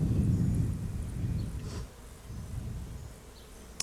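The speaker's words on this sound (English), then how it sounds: "this box still has some bees in it" Dense buzzing of honeybees swarming close by around stacked hive boxes, loud at first and then easing to a steady lower hum with no talking.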